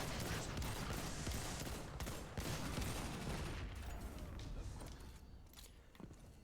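Destiny 2 weapon fire in a strike mission, a dense, sustained stream of rapid shots and mechanical clatter that stays loud throughout and eases slightly near the end, with no speech over it.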